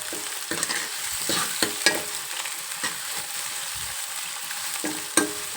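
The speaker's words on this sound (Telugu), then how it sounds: "కరివేపాకు ఇప్పుడు ఇలా వేసిన తర్వాత మనం బాగా కలుపుకోవచ్చు" Curry leaves get stirred into a cluster bean curry in a pan, producing a soft steady sizzle with intermittent scraping and knocking stirs of the spoon, close but fairly quiet, without any voices.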